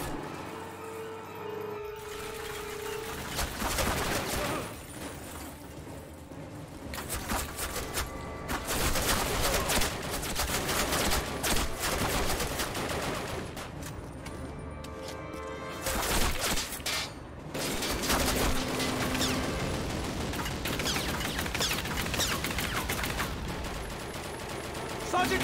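Rapid bursts of gunfire from a World War II-era gun in Call of Duty Classic on Xbox 360, dense and continuous over battle noise with explosions, loud throughout with a person talking over it.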